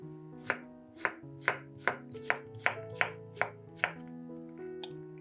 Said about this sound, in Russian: Два средних огурца нарезаем сначала пластинками, а затем режем их небольшими кубиками.